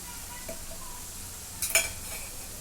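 Homemade onion-garlic masala with turmeric, chili powder and garam masala fries in a pan for chicken curry, giving a soft steady sizzle with a brief utensil clatter midway.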